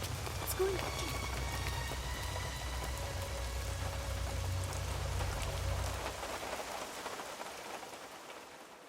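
Steady rain pours down outdoors, a dense continuous patter with a low rumbling wash underneath that thins out toward the end; no one speaks.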